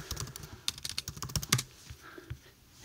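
Fingers type on a computer keyboard, a quick irregular run of close, crisp key clicks that slows and thins out toward the end.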